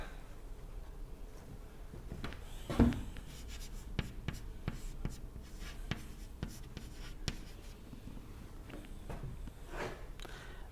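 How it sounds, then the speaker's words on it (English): Pen or marker writing on a board during a thin film dynamics lecture, a steady run of soft scratchy strokes with one louder knock near the start, no talking. "let me write it somewhere"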